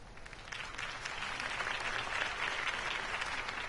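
Sustained crowd applause in a Telltale Batman game, a broad wash of many hands clapping at once, steady and fairly loud for the whole stretch.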